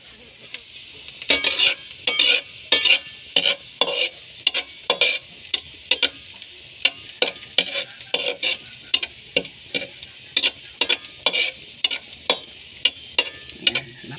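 Garlic, onion and ginger sauté in a pan for chicken adobo, a spatula scraping and clacking against the pan in quick repeated strokes over a soft sizzle.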